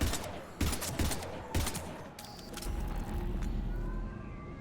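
Gunfire bursts in the game Mass Effect 3, a few sharp volleys early on, then a rumbling lower drone, all fairly quiet in the mix.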